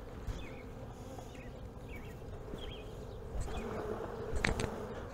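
Honeybees from a Langstroth hive buzz faintly and steadily, with a few soft knocks and rustles mixed in.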